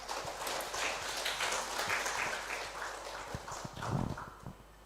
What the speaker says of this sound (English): Let's give a warm applause for Professor Andrew Lyon